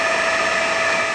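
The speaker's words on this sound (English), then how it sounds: "now we're going to go up to the highest RPM of the machine and show the spindle feeding" Steady high-pitched whine of an Ooya radial arm drill press spindle feeding at its top speed of about 1985 RPM, loud, close and unbroken with strong tonal motor hum throughout, no talking.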